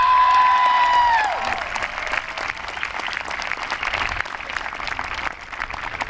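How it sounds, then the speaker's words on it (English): A high school commencement crowd breaks into a round of applause, dense clapping that carries on steadily after a voice fades out at the start. "please show them some love right now with a round of applause"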